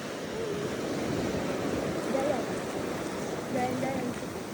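Sea waves wash steadily onto the seashore in a continuous broad hiss at a morning campsite by the coast, with no clear breaks between surges.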